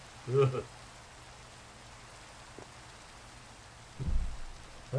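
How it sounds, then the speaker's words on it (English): Rain falls steadily in the video game Minecraft, a soft, even hiss under a short burst of speech, with a low rumbling thud near the end. "Oh, and it's raining."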